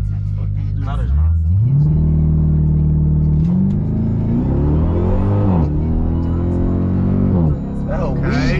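Dodge Durango Hellcat engine revving and accelerating through traffic, deep throaty roar rising in pitch through several gear pulls, loud and close from inside the cabin.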